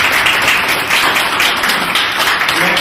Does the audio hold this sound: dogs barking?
no